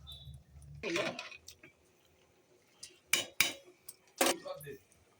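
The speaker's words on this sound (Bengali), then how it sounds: "এখন সবজিটা ঢেলে দেবো" Chopped vegetables tipped into a pot of khichuri, a few separate clattering metallic clinks and scrapes of utensil against pot, close by and spaced apart with quiet gaps between.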